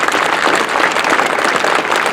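A crowd at an outdoor workers' memorial ceremony for a road maintenance crew claps steadily, dense and even applause sustained throughout, with no voices over it.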